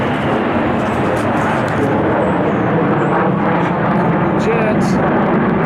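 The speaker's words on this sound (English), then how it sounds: "F-16s or F-25s or whatever those are, but well, I'm glad they're on our side" F-16 fighter jets pass overhead on the Gulf Coast with a loud, continuous, broadband roar that fills the whole stretch, heavy and sustained, while someone speaks beneath it.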